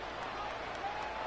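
A stadium crowd roars in an American football video game during a game against the Dolphins, with fans on their feet for third and seven. The cheering and applause form a steady, dense wash with no breaks.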